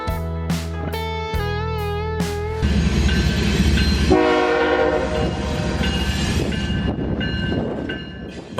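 A BNSF freight train hauling Boeing 737 fuselages sounds several loud horn blasts, then rolls past with a heavy rumble and rattling wheels, and a fainter horn returns midway.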